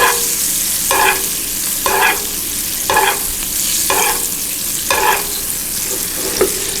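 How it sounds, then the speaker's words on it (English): Butter is spooned over a salmon fillet in a sizzling pan: a steady hiss of frying fat, broken by a scooping splash about once a second, close by with no talking. "use that butter and just baste over top of that fish"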